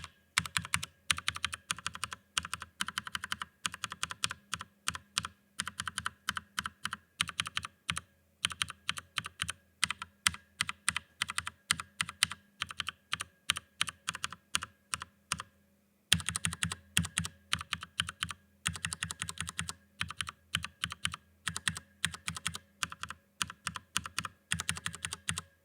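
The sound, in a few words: typing on mechanical keyboard with Krytox-lubed MX Brown switches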